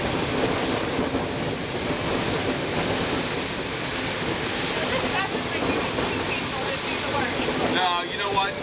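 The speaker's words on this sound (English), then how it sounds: "This is really strong wind." Strong wind roaring over a 52-foot Beneteau sailboat on Lake Erie, a steady loud rushing wash with water noise, continuous throughout with no clear talk.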